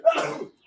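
A single sharp sneeze, close and fairly loud, bursting out and fading within a second.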